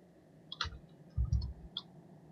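A handful of soft, sparse keyboard key clicks while typing a chat message during a World of Warcraft session, quiet and close, with a few dull low thumps in between.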